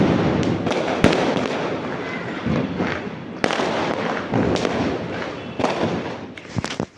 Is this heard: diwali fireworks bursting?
yes